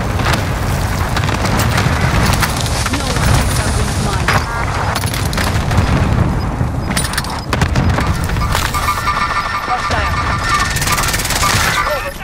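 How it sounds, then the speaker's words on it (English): Loud, dense in-game gunfire and booming explosions from a cluster airstrike fill a Call of Duty match, a continuous chaotic barrage of blasts and shots with no letup. "Calling for airstrike on my target."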